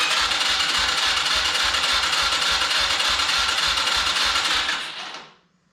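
A 250cc engine on a Mega Moto minibike runs rough with a rapid, uneven chugging pulse as the carburetor struggles, loud and close, then cuts out abruptly near the end.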